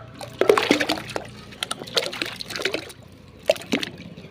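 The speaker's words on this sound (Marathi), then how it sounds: "या पाण्यामध्ये सर्व कैऱ्या ज्या आहेत त्या आपण धुवून घेणार आहोत" Raw mangoes being washed in a vessel of water, with a series of irregular splashes, trickles and sloshing close by at moderate level and no talking.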